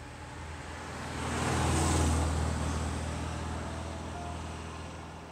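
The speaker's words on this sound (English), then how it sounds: "it's a very happy running car" MGB sports car on island roads, engine running in a steady low drone that swells as it passes closer near the middle and then fades slightly, with no talk.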